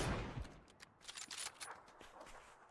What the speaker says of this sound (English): More shots go out, but it's just Champion hit the headshots on to Benya.